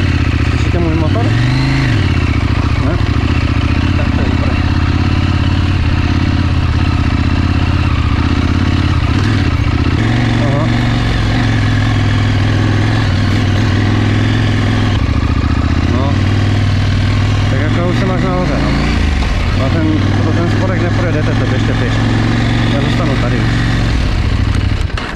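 A motorcycle engine running at a steady loud drone on a ride through the Jeseníky mountains near Červenohorské sedlo, with shifting pitch and wind buffeting, under a rider talking over an intercom.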